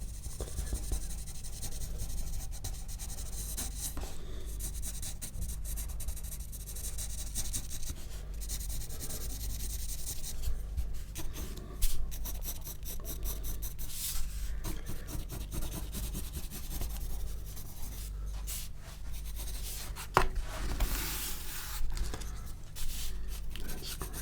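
A pencil sketching a portrait on paper, with close, soft scratchy strokes and rubbing that come in bursts of varying length throughout, quiet and intimate.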